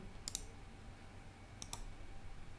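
Computer mouse clicks during file copying, two quick double clicks, one early and one later, crisp and close against a quiet room.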